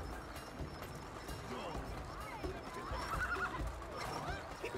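Horses whinny and hooves clip-clop at a gallop during a race in the It Takes Two video game, with players talking over the action.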